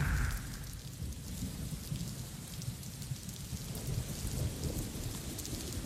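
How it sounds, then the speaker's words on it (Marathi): Heavy monsoon rain pours down steadily around the station area in Kalyan, a dense continuous roar of rain hitting surfaces, loud and close, with no voices. "कल्याणमध्ये मुसळधार पाऊस सुरू आहे"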